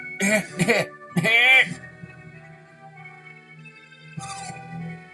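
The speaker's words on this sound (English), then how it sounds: "He's been coughing for quite a while now." An old man coughs in a few rough bursts in the video game Golden Sun, followed by a low throaty hum and a quieter vocal sound under soft background music.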